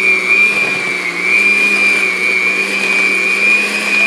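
Electric mixer beating warm sweet potatoes with melted butter for a sweet potato pie, a steady loud whir with a constant high whine running throughout without pause.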